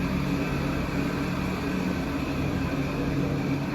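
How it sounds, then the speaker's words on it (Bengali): A ceiling fan runs noisily with a steady, droning whir and hum, constant and fairly loud, no voices over it. "পাখার আওয়াজ হচ্ছে অনেক"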